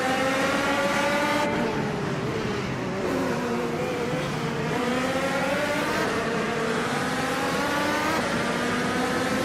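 A 2018 Chevrolet IndyCar races at Zandvoort Club in a racing game, its high-pitched engine whining loudly and continuously, the pitch climbing and dropping through gear shifts.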